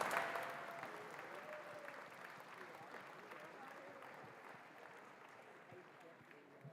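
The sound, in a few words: applause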